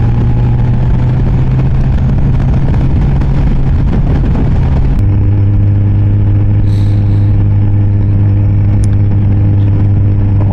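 A Kawasaki ZZR 1400 motorcycle cruising on a wooded Belgian road, its engine a loud, steady hum with constant wind rush, and the pitch dropping once partway through as the rider shifts gears.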